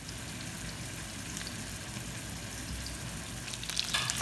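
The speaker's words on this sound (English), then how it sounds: "you take your meatballs and just brown them slightly in a frying pan with oil" Meatballs browning lightly in oil in a frying pan for a Spanish chickpea stew give off a steady, soft sizzle and crackle that stays even throughout, with a few sharper pops near the end.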